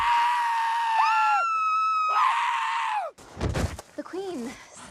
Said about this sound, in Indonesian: Dan si gorila yang membukakan pintu saling terkejut dan berteriak.